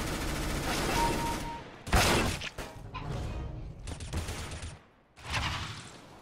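Rapid automatic sniper rifle fire in a CS:GO deathmatch, loud bursts of gunshots in clusters with brief gaps, over dense game noise.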